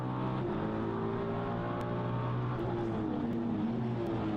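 A race car at the Okayama Japan Cup race, engine droning steadily in first gear through a very slow left-hand hairpin, with other engine tones layered in and faint distant commentary beneath.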